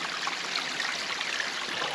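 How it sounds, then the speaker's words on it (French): Mountain stream water runs steadily and close by while a filter water bottle is filled on a trek in the Cantal, a continuous bright rushing trickle with no voices. "dès qu'on trouve un ruisseau un peu haut, on prend de l'eau"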